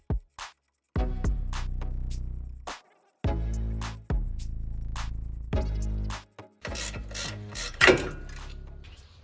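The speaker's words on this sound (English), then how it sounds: "I'm going to remove this nut off the upper ball joint" Ratchet spinning off an 18 mm nut from the upper ball joint of a 2023 Ford F150 V8 during a suspension install: several close bursts of rapid metallic clicking separated by short pauses, with no voices.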